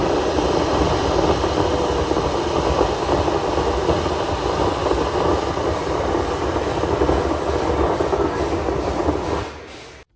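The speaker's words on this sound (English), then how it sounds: "they had to release a lot of steam from the train" A loud, steady hiss and roar of steam venting from a train, continuous and close, cutting off abruptly at the end.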